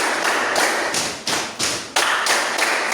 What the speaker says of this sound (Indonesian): Ulang tepuk 1, 2, 3-nya lagi tanpa saya kasih aba-aba lagi